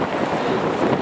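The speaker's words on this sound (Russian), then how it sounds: "начался довольно-таки сильный ветер" Strong wind gusting across Maidan, Independence Square in Kyiv, as snow begins, a steady broadband roar buffeting the microphone, close and loud with no talk.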